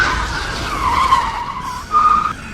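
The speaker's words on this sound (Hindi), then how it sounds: "कार का ब्रेक लगा देता है" A car brakes hard with tires squealing and skidding, a loud screeching sweep that fades and then flares again briefly, set in a horror story scene.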